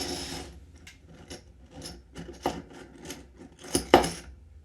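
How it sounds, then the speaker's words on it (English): A metal file rasps a groove along the solder pins of a DIY DNA250c passthrough box mod, giving quiet irregular scraping strokes with a few sharper, louder scrapes near the end. "to make that easier to solder, I'm going to file a groove"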